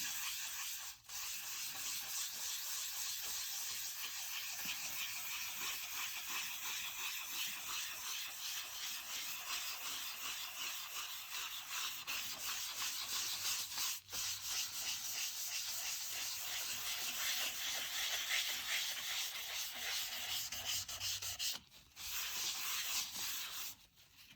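Pastel being rubbed into paper for a soft colored background in a weeping cherry tree drawing, a steady close scratchy rubbing that carries almost unbroken for the whole stretch, with a couple of brief pauses near the end.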